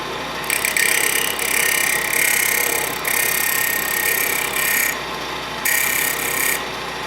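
A parting tool used as a scraper smooths a turned wooden box on a spinning wood lathe, giving a steady, close scraping whir that swells and eases in several passes, with no talking.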